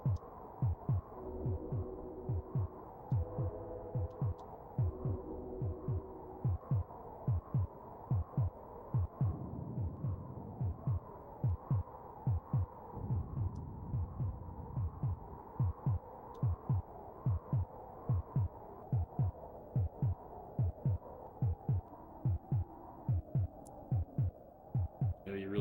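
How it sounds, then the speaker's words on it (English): A pounding heartbeat from the SNES game Populous throbs in a steady, regular double-beat rhythm, low and thudding over a soft hum with faint tonal game sounds. "you really start to miss that pounding heartbeat"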